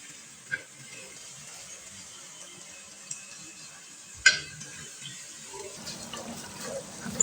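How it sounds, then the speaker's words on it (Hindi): A cup of water goes into a pan of spiced frying chicken for pulao: a quiet sizzle, a sudden splash as the water hits, then a louder bubbling hiss. "तो अब हम इसमें डाल देते हैं 1 कप पानी।"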